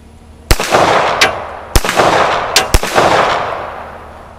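Rock Island M1911A1 .45 ACP pistol firing FMJ rounds outdoors: five loud sharp reports in irregular sequence, each with a long ringing decay, no talk.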